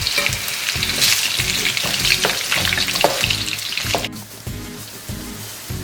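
Potatoes frying for goulash, a loud close sizzle with stirring scrapes and a rhythmic pulsing underneath, easing after a sudden break near the end, no talk.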